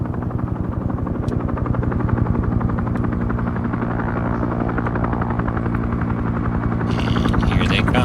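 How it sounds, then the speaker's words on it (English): A helicopter in the video game Arma 3 turns and flies away, its steady rotor chop and engine drone loud and continuous, with a brief brighter rush near the end as it moves. "And here they come. And the helicopter's going to turn around and basically fly away"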